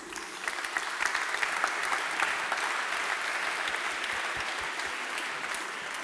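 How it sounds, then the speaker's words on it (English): An audience at a live hackathon event applauds its diamond sponsors, a sustained, even wash of many hands clapping at moderate distance with a faint murmur of voices beneath. "please applause to the diamond sponsors, to the partners allowing these"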